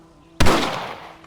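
A single loud rifle shot in the video game Red Dead Redemption cracks out suddenly after a quiet moment, then rolls away in a decaying echo over the next second.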